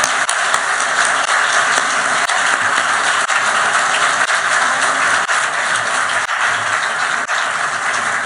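Sustained audience applause after a keynote conference talk fills the space, a dense, steady wash of many hands clapping at close-to-moderate distance, unbroken and loud throughout with no voices on top.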